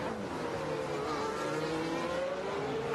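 A Formula 1 car with a Mercedes engine races at the 2021 Italian Grand Prix, a steady high engine whine with a faint rising pitch over a constant roar, heard from a distance without talk.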